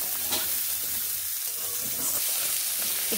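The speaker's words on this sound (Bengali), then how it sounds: "খুব ভালোভাবে ডাঁটাগুলোকে এইভাবে ভেজে নিচ্ছি" Drumstick stalks fry in a pan with oil and a little salt, a steady close sizzle with soft crackles and occasional stirring scrapes, with no talking.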